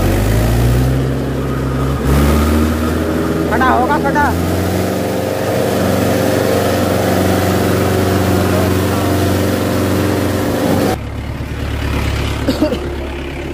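A Mahindra 575 tractor labours hauling a heavy load of about 50 quintals of sand through sticky mud, its engine droning loudly and steadily throughout with a brief dip near the end while someone talks over it.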